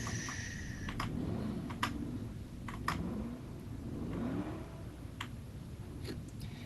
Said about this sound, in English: give your car some revs